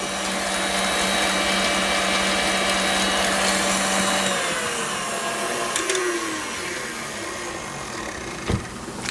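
Electric whisk beater running steadily in cake batter, a loud continuous motor whine that shifts and lowers partway through, ending with a couple of brief knocks against the bowl.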